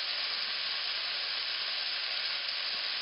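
Beef roulades searing in a hot pan, a steady even sizzle and hiss of frying meat with no voices, constant and close throughout.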